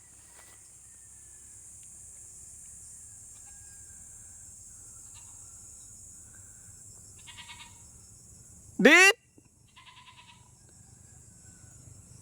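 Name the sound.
goat bleating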